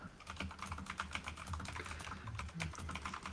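Someone typing on a computer keyboard, a quiet, steady stream of rapid key clicks close to the microphone.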